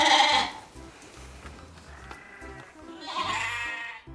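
A toy sheep gives off bright bleating bursts at the start and again near the end, fairly loud and close, with quieter rustling and faint background noise in between.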